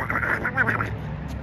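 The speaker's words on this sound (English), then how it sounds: "That was a duck sound." A short run of nasal, buzzy quacks from a duck, fairly close, several quick calls in a row and then a pause.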